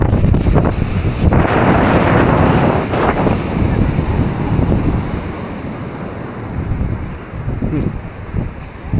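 Strong, typhoon-like wind roars across the microphone at Sulok Beach in General Nakar, with crashing surf beneath it, loud and continuous and easing slightly toward the end.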